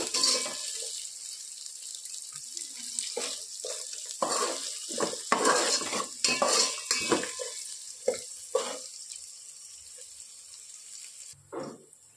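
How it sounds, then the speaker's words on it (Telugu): Green chilies and onions frying in oil in a pan for a chicken biryani, a steady sizzle broken by scraping stirring strokes and clinks of the utensil against the pan, close by, with no talking. "పచ్చిమిర్చి వేసుకోవాలి. ఇవి కూడా కొంచెం బాగా ఎర్రగా వచ్చేలాగా వేగాలన్నమాట."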